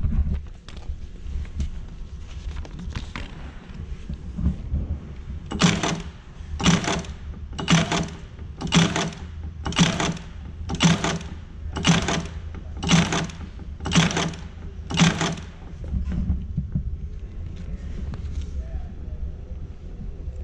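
An Acme Interlake S3A saddle stitcher loaded with 25 gauge round wire drives about ten evenly spaced, punchy mechanical clacks in a steady rhythm over a low machine rumble, close by.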